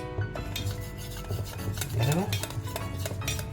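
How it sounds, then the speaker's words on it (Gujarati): Water being mixed into batter with a spoon in a metal bowl, producing close, steady scraping and clinking strokes in a continuous rhythm, with a short spoken word at the start. "અને હવે આમાં પાણી મિક્સ કરીને ઘટ્ટ બનાવવાનું છે"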